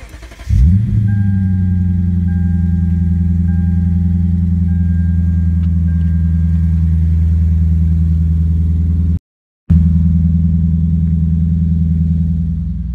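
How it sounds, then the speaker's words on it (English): A Lexus IS F with a cat-back exhaust idles with a deep, steady exhaust rumble, loud and close, holding a sustained drone with a brief cut near the end. "That's just a quick taste of what the exhaust sounds like."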